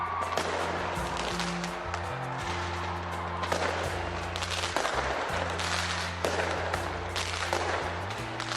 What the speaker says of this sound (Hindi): काउंटडाउन के बाद आतिशबाजी होते ही नए साल का जोरदार तरीके से स्वागत किया गया